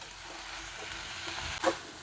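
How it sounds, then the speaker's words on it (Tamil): Vallarai keerai greens sauté in a pan with a steady close sizzle and frying crackle, and a short scrape of stirring near the end. "கீரையோட பச்சை வாசனை போகிற அளவுக்கு நல்லா வதக்கி எடுத்துக்கங்க"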